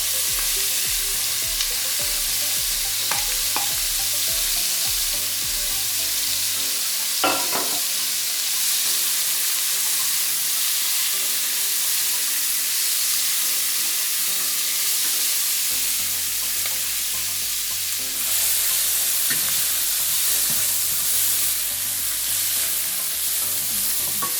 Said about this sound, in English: now we're gonna add the frozen vegetables